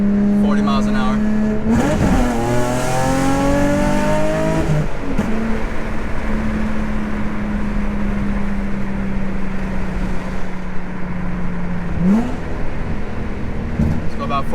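An Infiniti G35 Coupe with an aluminum single-piece driveshaft accelerating on the road, a steady engine drone rising in pitch through the gears, with road noise and someone talking over it.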